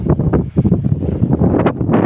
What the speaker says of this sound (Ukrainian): Вітер, звісно, жорсткий, не знаю, що буде з звуком.